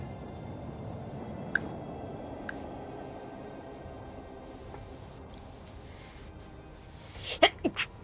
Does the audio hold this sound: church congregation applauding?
no